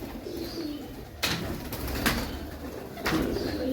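Racing pigeons coo close by while several sudden bursts of fluttering wings break out, as birds are released and take off in quick succession.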